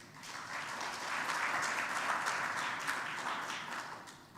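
An audience at a South African meeting applauds together, a steady, dense wash of many hands clapping that swells, holds evenly for several seconds and begins to fade at the end.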